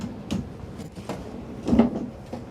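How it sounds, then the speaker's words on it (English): Kitchen drawers in a 2024 Winnebago Navion 24D RV are pulled open one after another, giving a few soft sliding thumps and clunks at close range. "I'll start from the bottom just so you can kind of see all the drawers."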